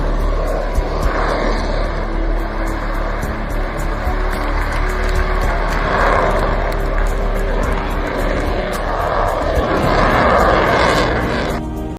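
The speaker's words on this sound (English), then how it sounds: "This Jester 787 bursts a tire on takeoff and comes back safely." A Boeing 787 airliner roars loudly and steadily through its takeoff run, a broad sustained engine rumble that swells slightly toward the end with no pauses.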